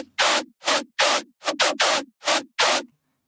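A harsh, noisy synth layer for heavy brostep made in Vital, stabbing in eight short, loud, evenly chopped bursts with silence between, ending abruptly; no voices.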